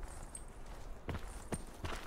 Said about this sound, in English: I thought I just heard some loud old footsteps